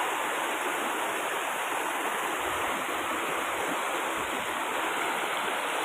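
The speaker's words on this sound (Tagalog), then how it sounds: "Yung bumababang tubig, yan." Waterfall water rushes down steadily, a dense continuous roar heard close and loud throughout with no pauses.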